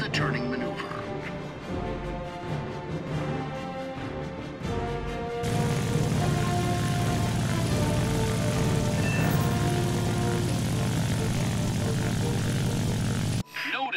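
A propeller aircraft engine in War Thunder drones steadily and loudly, rising to a fuller roar midway, while a voice gives instructions over it.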